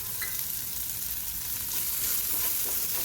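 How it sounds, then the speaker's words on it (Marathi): Ginger and garlic fry in a pan with a steady, close sizzle, broken by faint stirring scrapes and no talking. "त्याला छान असं भाजून घ्यायचं आहे।"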